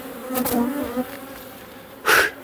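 Honeybees buzz around an opened hive during queen-rearing work, a steady insect drone with a few louder swells as bees fly close, the strongest near the end.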